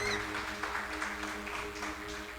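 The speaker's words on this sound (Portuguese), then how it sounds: "dê uma linda salva de palmas para Jesus" A church congregation claps during a worship service, a dense, fairly soft patter of many hands over a sustained musical tone or keyboard drone.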